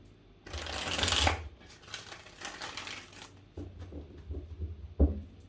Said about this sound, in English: So I'm gonna give this 3 shuffles.